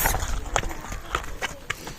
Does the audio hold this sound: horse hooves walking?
yes